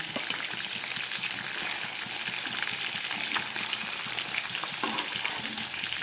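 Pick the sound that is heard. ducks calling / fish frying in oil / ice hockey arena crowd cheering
fish frying in oil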